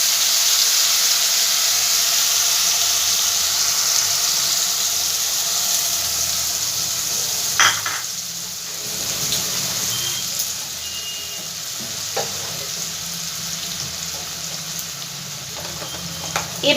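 Ground mustard and poppy seed paste frying in oil with dried chillies over a low gas flame, steady close sizzling with occasional stirring clicks and scrapes in the pan.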